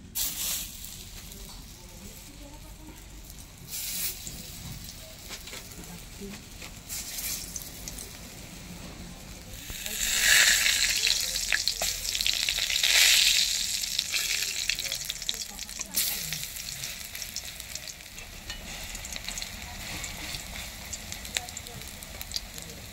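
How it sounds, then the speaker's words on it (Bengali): Red lentil fritters (masoor dal bora) sizzle steadily in hot oil as they are dropped into the pan, with a dense crackling hiss that swells louder midway, then settles back to a steady frying sound. "তেলে আমি এবার ডালের বড়াগুলো বসিয়ে দেবো।"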